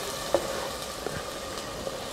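A soft, steady sizzle rises from nanju kondan greens cooking in a pan, with a few faint stirring taps, low and continuous with no voices.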